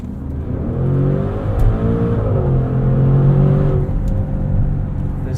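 A 2021 Maserati SUV's twin-turbo V8 pulls through gears, a deep close engine drone that rises in pitch, dips briefly at a shift, then climbs again.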